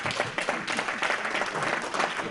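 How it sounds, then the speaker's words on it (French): An audience gives a brief round of applause at a gathering on local plant varieties and livestock breeds, a steady, moderately loud spatter of many hands clapping. "Ça au moins tout le monde comprend les applaudissements"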